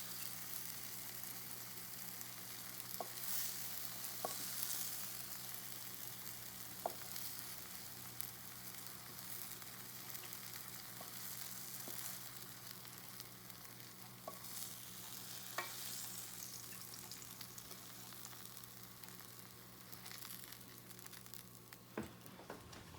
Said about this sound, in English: You can start placing your bananas on top of your gooey peanut butter and cinnamon brioche bread.